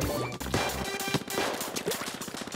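Heavy weapon in Splatoon 2 firing in a dense, rapid barrage of blasts and crashes, loud and continuous throughout, with game music underneath.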